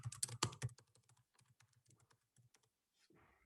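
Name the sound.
typing on a computer keyboard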